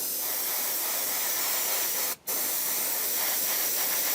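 Airbrush or spray gun laying a light test coat of paint, a steady close hiss with one brief break midway, no voices.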